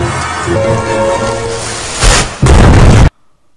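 A giant siege cannon fires two heavy booming blasts in quick succession, loud and rumbling, over a steady roaring background before cutting off abruptly.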